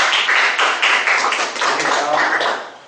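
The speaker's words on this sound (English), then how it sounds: "let's give him a round of" Audience at a speakers' forum meeting claps for a speaker in a burst of dense, close applause lasting a few seconds, with rhythmic individual claps standing out before it tapers off at the end.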